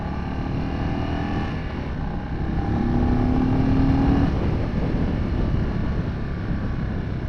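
An Indian Chief Bobber motorcycle's engine hums steadily while the rider takes curves, its tone climbing slightly in pitch under heavy wind rush across the microphone.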